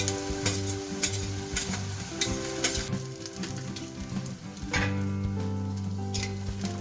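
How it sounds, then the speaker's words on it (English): Steady sizzling of chopped green chilies frying in hot oil with onions and peanuts, with scattered crackles and spoon stirring, close by; soft tonal music plays underneath. "Let the chilies fry for about 30 to 60 seconds"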